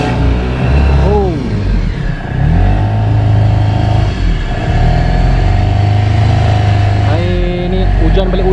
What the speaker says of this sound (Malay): Terus dengan gigi. Enjin 5 horsepower je.